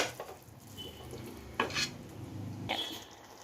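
Fish biriyani masala being stirred in a pan, with a few distinct scraping strokes of a spoon against the metal over a soft sizzle, close and fairly quiet.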